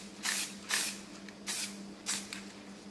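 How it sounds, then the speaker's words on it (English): Four short bursts of spray paint, evenly spaced test sprays off to the side while painting a rifle, each a close hissing puff with brief quiet gaps between. "So, take a couple of test sprays off to the side."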